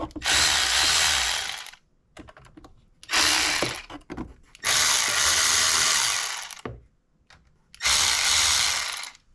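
A power socket tool loosens bolts on the intake manifold of a Maserati Ghibli in four loud, close whirring bursts, separated by short quiet gaps with faint clicks and tool handling.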